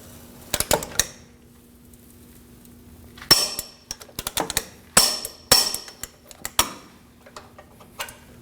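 Torque wrench tightening a bolt to 258 foot-pounds on a camber alignment kit for a 2009-2014 Ford F-150, heard as scattered sharp metallic clicks and ratcheting snaps in irregular bursts against a faint steady hum.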